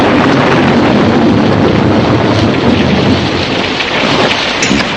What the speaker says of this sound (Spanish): El trueno retumbaba.